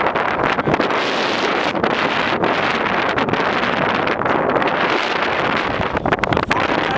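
Strong wind on the slopes of Mount Adams roars steadily into the microphone, producing dense, buffeting rumble and hiss with constant gusty fluctuations and no voices heard.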